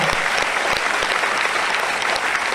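An audience at an award recognition ceremony claps together, a dense, even burst of applause that fills the whole moment with no voices over it.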